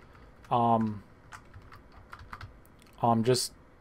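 Rapid, light key taps on a computer keyboard sound faintly through a quiet room, set between two brief, louder tonal bursts.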